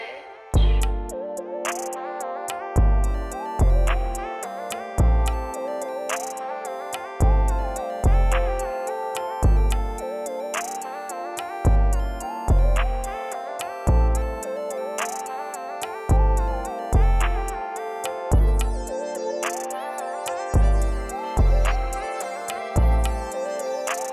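A steady pluggnb R&B hip-hop beat around 140 BPM with punchy kick drums on a regular pulse under layered melodic synth and chord parts, looping throughout with no vocals.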